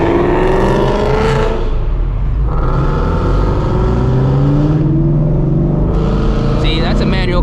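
A manual-transmission car drives past on the road, its exhaust note rising and falling through gear changes, loud and close, while someone talks over it.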